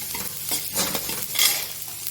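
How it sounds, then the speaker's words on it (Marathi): Sesame seeds roast with ridge gourd in a pan, crackling and popping in short bursts of sizzle and stirring that come close together, without any talking. "इकडे हे उडायला लागलेले आहेत सगळे तीळ पटापटा पटापटा उडायला लागलेले आहेत"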